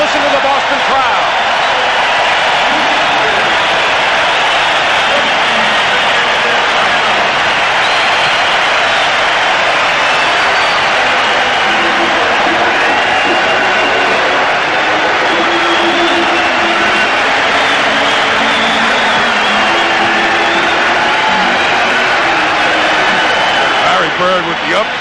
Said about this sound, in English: Listen to the Boston crowd.